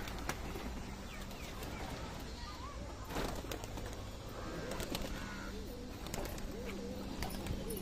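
Pigeons coo softly in a loft, the low rolling calls repeating steadily against a constant background hum, with occasional faint bird chirps and rustling throughout.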